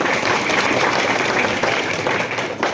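Loud, dense applause from an audience at a club ceremony honouring students, steady across the whole stretch with no pauses.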